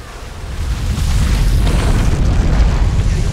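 Lava surging in the StarCraft II video game, a dense, continuous low rumbling roar that swells after the first second and stays loud and steady, with no talk over it.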